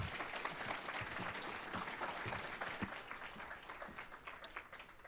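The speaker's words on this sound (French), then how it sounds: "on peut l'applaudir." An audience at a talk on painting and cinema claps to welcome the speaker, a sustained, moderately quiet patter of many hands that tapers slightly at the end.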